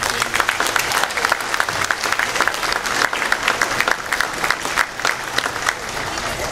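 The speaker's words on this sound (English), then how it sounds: "Let's have a round of applause." Audience applause rises and holds at a school choir's pops and awards concert, a dense, steady wash of many hands clapping in a hall for the accompanists, sustained and fairly loud throughout.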